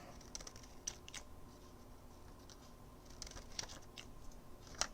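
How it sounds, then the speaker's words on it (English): Scissors snip through red heat transfer material in a few quick, close, crisp cuts, separated by short pauses in an otherwise quiet room. "I needed to cut off just a little bit of this red too"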